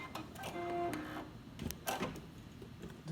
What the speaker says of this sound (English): So I'm gonna start by embroidering.